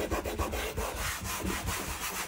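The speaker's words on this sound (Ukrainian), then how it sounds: "Фломастери відтираю таким звичайним спиртом." Rag soaked in ordinary rubbing alcohol scrubbed back and forth over marker stains at home, a steady close rhythmic rubbing with repeated strokes running continuously.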